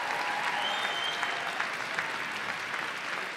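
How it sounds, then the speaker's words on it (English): Audience applause at a poetry slam final, a dense, steady wash of clapping held at an even level from start to finish with no voices over it. "So the first round of applause goes to these incredible poets."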